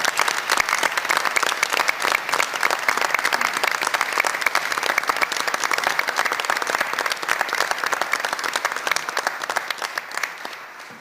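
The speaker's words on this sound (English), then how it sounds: "let's give a round of applause" Sustained applause from a crowd fills the whole stretch, dense and steady, tapering slightly at the very end.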